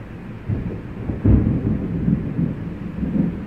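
A deep rumble of thunder rolls continuously over steady rain during a thunderstorm, one louder crack briefly standing out.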